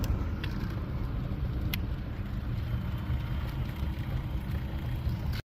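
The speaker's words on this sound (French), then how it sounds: "Les voitures sont là, ils passent." Steady road traffic rumbles close by at a roadside gathering of bicycle caravans, a continuous drone of cars going past without pause, no voices.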